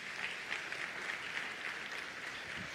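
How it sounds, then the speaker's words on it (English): Applause from the audience at a scholarship symposium in Trinidad and Tobago, a soft, even patter of many hands clapping, heard from a distance and continuing steadily without speech. "Give them a round of applause."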